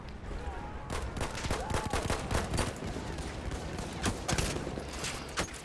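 An enemy machine gun fires in the World War I shooter Battlefield 1, loud rapid bursts of shots cracking over a din of battle, with uneven pauses between volleys.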